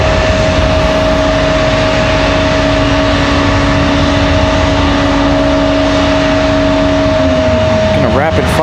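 American Airlines A319 jet departing RDU airport: a loud, constant engine roar with a steady tone that begins to drop near the end, as a voice talks over it.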